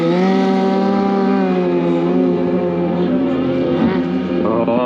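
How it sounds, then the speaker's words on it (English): A motorcycle engine idles steadily at a Scottish motorcycle show, a loud, close, even drone with rich harmonic tones holding near-constant revs for the whole stretch, with no talking over it. "As you can hear, the revs are just bog standard, just sitting there lovely with the brake working."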